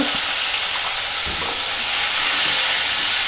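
Onion and curry leaves sauté in hot tempering oil, producing a loud, continuous sizzle and hiss close by, with a few soft stirring knocks and no talk.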